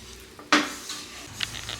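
Roasted gram (pottukadalai) halwa is stirred in ghee in a pan over a low flame: one sharp scrape of the ladle, then a quieter sizzle with light clinks.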